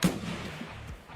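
Gunfire in a tactical shooter game, a single sharp shot at the very start followed by a low rumbling tail and faint background game noise, with no voices.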